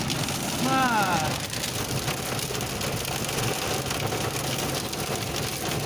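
Heavy rainstorm drums on a car driving from New Jersey to Pennsylvania, a dense, loud, constant patter over road and engine noise, with a brief rising whistling tone near the start.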